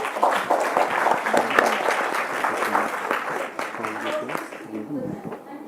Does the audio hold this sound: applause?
yes